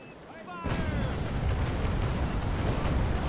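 Ship cannons firing a raking broadside in a naval pirate video game, a sudden dense roar of overlapping booms that swells in and holds loud and rumbling to the end.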